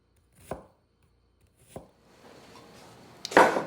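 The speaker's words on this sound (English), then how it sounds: "I'm going to do the whole onion because I will need diced onion for another one of our salads today." A knife chops a whole peeled red onion on a cutting board: two separate sharp knocks, then a softer stretch of slicing and a louder cluster of quick cuts at the end, close up with no talking.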